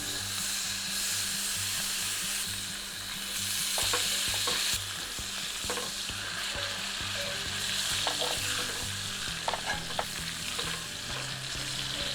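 Beef sears in a hot pan with a steady, loud sizzle and crackle throughout, and occasional scrapes from a utensil.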